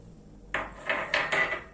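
A spoon stirring creamy French-style mushroom soup in a pot, three or four soft scraping clinks against the metal in quick succession, close and fairly quiet.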